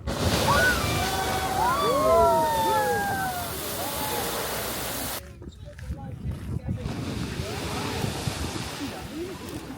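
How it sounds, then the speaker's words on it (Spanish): A geyser in Iceland erupts with a loud rushing, sloshing burst of water for about five seconds, then drops to a quieter spattering as the water falls back. Faint voices and high whistling tones sound over the first part. "Y cada 3 a 5 minutos sale el agua así para arriba flotando."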